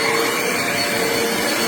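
A Eureka Airspeed ultra-lightweight compact bagless upright vacuum cleaner runs close by with a loud, steady motor whine and airy suction roar, unbroken throughout.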